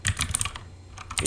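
Fast typing on a computer keyboard, a close run of crisp clicking keystrokes with a brief pause before a few more taps.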